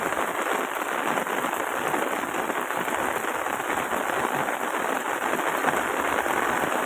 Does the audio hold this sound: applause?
no